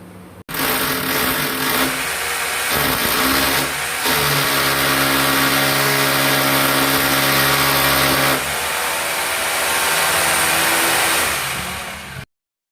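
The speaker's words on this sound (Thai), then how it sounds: "ในเมื่อเราเจาะแนวตั้งไม่ถนัดเราก็เจาะแนวข้างแทนนะครับ" A power drill bores sideways into a wall for electrical wiring channels, its motor whining loud and steady for about twelve seconds after starting abruptly, with slight pitch shifts under load before cutting off.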